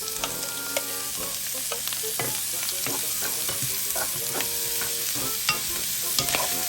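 Onions and tomatoes fry in a pan for pinakbet while a utensil stirs them, giving a continuous sizzle punctuated by frequent sharp scrapes and clicks, close and fairly loud with no talking.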